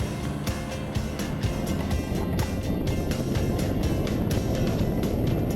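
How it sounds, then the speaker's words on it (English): A small ultralight plane carries a hang glider aloft at takeoff over Davenport, Florida, its engine giving a steady, buzzing drone with a faint pulsing flutter throughout, fairly close and unbroken. "As the plane lifted us off the ground"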